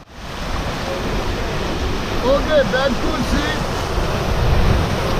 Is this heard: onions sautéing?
no